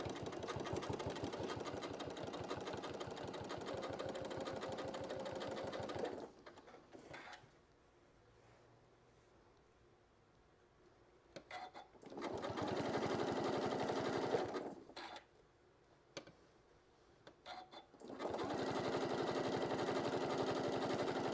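A sewing machine runs top stitching along a fabric edge for a shoulder wrap, in three steady, loud bursts of rapid mechanical whirring separated by quiet pauses.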